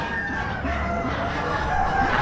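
Roosters crowing among poultry at an Amish animal auction, a continuous raspy crow over a dense barn din of other fowl and clucking, fairly close and loud.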